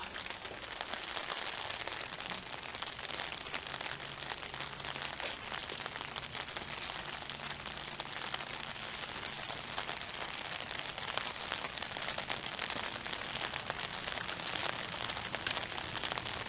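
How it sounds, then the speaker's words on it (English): Steady rain falls and patters on surfaces outside a building in Appalachia, a constant faint hiss with no voices. "It's really raining."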